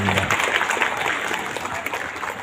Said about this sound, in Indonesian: Sekali lagi tepuk tangan lagi.